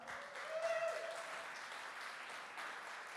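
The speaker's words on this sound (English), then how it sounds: "A round of applause for Mox." A crowd at a literary NFT lightning talk applauds an artist with a soft, distant patter of clapping, faint but continuous, with a brief voice passing through early on.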